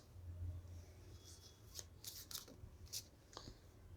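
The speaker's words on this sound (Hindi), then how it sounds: "I'm going to shuffle again." Tarot cards being shuffled by hand at close range, quiet papery riffles and short bursts of card slapping in an otherwise hushed room.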